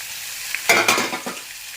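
Onions hissing and sizzling in a hot pan as a spoon stirs them, a burst of frying that swells then settles to a low crackle.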